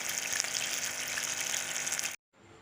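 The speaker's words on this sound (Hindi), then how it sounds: "अब दोबारा फ्राई कर रही हूँ" Chicken wings getting a second fry in hot oil hiss with a steady, bright sizzle for about two seconds, then the sound cuts off abruptly and returns faintly.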